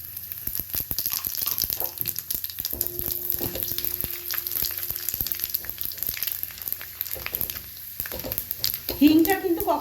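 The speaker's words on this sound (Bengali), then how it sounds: "এই যে 5 ফোড়ন দিচ্ছি।" Bengali five-spice seeds hit two spoonfuls of hot refined oil in a pan, setting off a loud, crackling sizzle that carries on steadily with a few stirring knocks, and a voice speaks briefly near the end.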